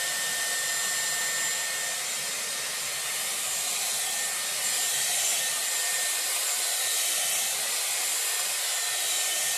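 A Dyson Airwrap blows a steady, loud broadband hiss of air while drying hair around a round brush, continuous and close with no talking.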